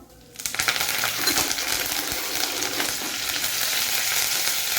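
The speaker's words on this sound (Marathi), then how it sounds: "जिरे टाकल्यानंतर यामध्ये मी कढीपत्ता टाकते आहे।" Curry leaves hit hot oil already holding mustard seeds and cumin for a Maharashtrian kurdai bhaji. After a brief quiet moment a loud crackling sizzle bursts up close and keeps spitting steadily to the end.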